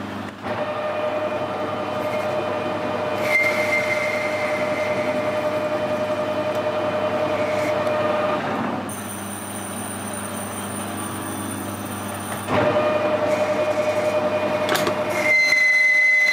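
A lathe turns down a metal oil pump plunger from a traction engine to nearly 8mm. It gives a steady, loud mechanical whir with a thin whine that shifts in pitch partway through. There is no talk.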